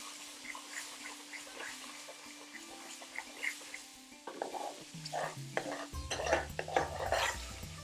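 A curry masala base cooks in a pan for chicken pathia, sizzling steadily with stirring clinks and scrapes of a utensil against the pan growing louder toward the end.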